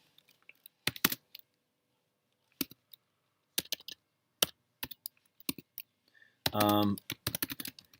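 Bursts of typing on a computer keyboard while notes are written, short clusters of key clicks with pauses between, close and fairly quiet, one brief louder rattle near the end.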